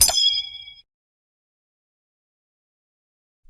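A single bright bell-like ding sounds right at the start, ringing out briefly before fading into silence, as a notification chime.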